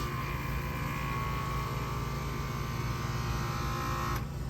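An air conditioner condenser is switched on with its fan motor stalled and not turning, giving a steady electrical hum and buzz with a faint high whine, constant and close, ending with a brief click near the end.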